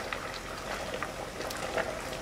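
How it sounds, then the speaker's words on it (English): Large pot of water at a rolling boil for pasta in a kitchen, a steady dense bubbling and hissing with no pauses, fairly close and moderately loud. "we have a boiling pot of water"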